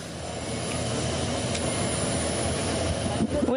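Airplane at the Paris Le Bourget air show, a steady broad engine roar holding loud throughout with a faint voice underneath.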